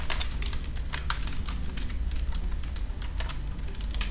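Steady, fast typing on a computer keyboard while a command for network switch configuration is entered, producing dense close-up key clicks in a continuous irregular patter, with no talking.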